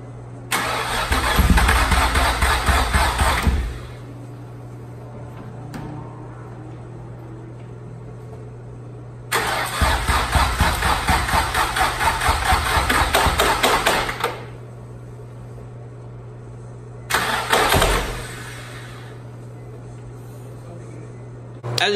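A Nissan 350Z engine cranks over without starting in three separate bursts, each a rapid rhythmic churning of the starter lasting a few seconds, with a steady low hum between the attempts.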